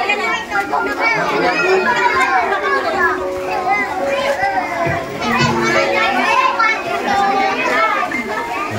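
A crowd of daycare children plays and chatters nearby, with many overlapping high young voices, shouts and calls continuing steadily throughout at fairly loud level.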